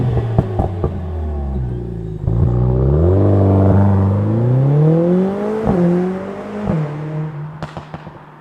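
A Mercedes-AMG CLE53 engine is revved hard, its exhaust note climbing and falling through smooth sweeping rises, framed by sharp pops and crackles at the start and end, loud and close with no talking.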